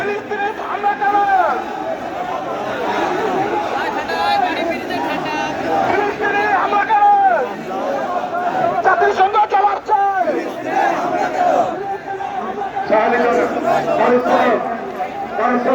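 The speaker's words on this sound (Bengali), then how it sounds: "সবাই ফিলিস্তিনিদের পক্ষে স্লোগান দেবেন।" A large crowd at a street rally outside the BNP central office in Naya Paltan, Dhaka, chants slogans in support of Palestinians, sustained and loud with rising shouted calls and dense voices throughout.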